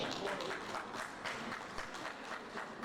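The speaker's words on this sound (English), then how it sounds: "So you can see the likes of those who are clapping now." An audience applauds during a speech at a Pharmaceutical Society of Nigeria gathering: a steady patter of many hands clapping for a few seconds, moderately distant and fairly quiet.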